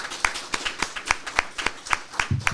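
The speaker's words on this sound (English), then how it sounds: "So let's give Samantha Bova a big round of applause for joining us." Clapping for a guest at a live climate podcast event at SDSU: a sparse, evenly spaced run of about nine crisp claps, close and fairly loud.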